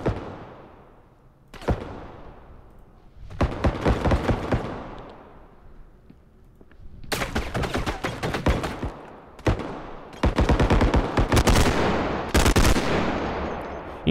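Gunfire in the realistic shooter game Bodycam: sharp single shots and rapid bursts in separate loud clusters, some echoing with decaying tails, with quiet gaps between, no talking.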